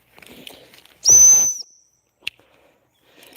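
Dog training whistle blown once for a stop command, a single sharp high-pitched blast of about half a second, loud and close, followed by faint outdoor rustling.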